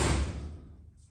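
A G-body car door fitted with brand-new rubber seals and no window glass swings shut in a single close, soft thud that quickly decays, with no voices.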